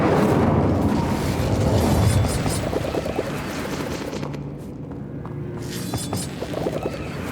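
An Incendio fire spell is cast in Hogwarts Legacy, a roaring burst of flame and rumbling blasts that swells loud at first and then settles into a crackling, sputtering burn.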